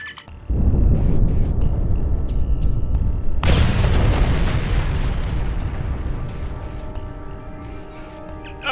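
A loud explosion in the Star Trek Online video game bursts out after a short quiet lead-in, with a second heavy blast hitting midway and a long rumbling tail of debris and game ambience that slowly fades.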